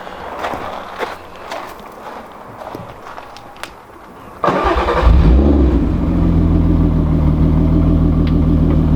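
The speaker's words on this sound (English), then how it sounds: "we'll do a quick clip of the stock exhaust with a cold start and some revs" A Volkswagen Golf Mk4 R32 on its stock exhaust cranks and catches midway on a cold start, then settles into a loud, rumbling idle with a few revs; scraping and movement noises come before it starts.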